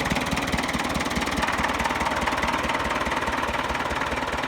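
A 1967 International Harvester B275 vintage tractor engine idles nearby with a steady, even knocking chug and mechanical rattle, loud and unbroken throughout.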